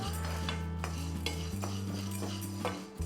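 Chana dal and masala for bisi bele bath are sautéed over high heat, with a spoon repeatedly scraping and clinking against the pan over a low hum and soft sizzle, fairly quiet and without speech.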